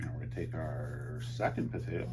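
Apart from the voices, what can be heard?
No everyday noises stand out.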